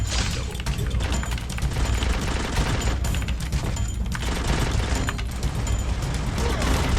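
Sustained rapid gunfire in the Free Fire mobile shooter rattles on continuously with sharp cracks and bursts, loud and close, while a player talks over it.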